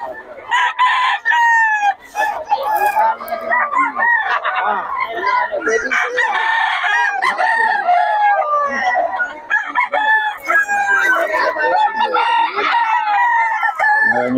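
Many roosters crow over and over at a Bocaue outdoor market, loud and continuous, with overlapping crows and clucks from caged fowl close by, and some faint voices mixed in.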